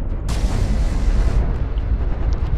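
A heavy, rumbling ammo explosion in the video game Mechwarrior Online bursts out loud and close, with a deep low boom that lingers and fades over a couple of seconds.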